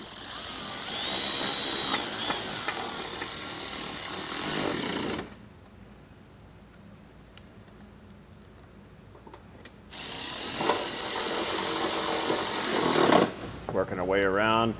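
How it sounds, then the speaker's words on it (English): A power tool driving 10 millimeter bolts back in beneath a 2018 Mercedes-Benz GLC during a trailer hitch install, loud buzzing runs of several seconds separated by a quiet pause, ending with a brief rattling burst. "Reinstall the 10 millimeter bolts here."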